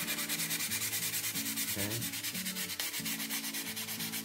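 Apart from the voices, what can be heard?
sanding fins of a model rocket smooth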